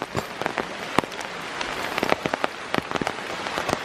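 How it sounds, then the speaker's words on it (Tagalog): Heavy rain pours down steadily in a dense, constant hiss, with sharper close drops tapping and pattering on a nearby surface throughout. "Pero nga, 'di ba, super ulan."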